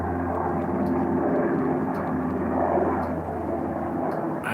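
A Chinook helicopter passes overhead as a steady, broad rotor and engine roar, fairly loud and continuous with a low droning hum underneath, no voices.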